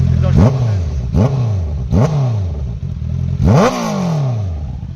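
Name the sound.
Kawasaki Z900 and Honda CBR650R motorcycle exhaust notes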